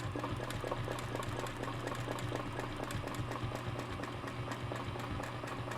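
A sewing machine stitching a quilt runs with a steady, fast mechanical chatter, a low hum under regular needle clicks, moderately quiet and close, with no talking.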